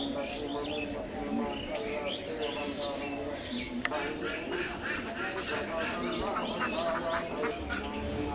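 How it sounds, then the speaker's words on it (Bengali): A flock of ducks quacking continuously at a village pond on a rainy-season morning, many overlapping calls close by, with someone speaking over them. "দেখুন কতগুলো হাঁস এইখানে চলে এসেছে"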